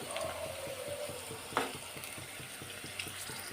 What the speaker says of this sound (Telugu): ఇప్పుడు మనం ఈ ఆనియన్స్ అన్నీ బాగా ఫ్రై చేసుకోవాలి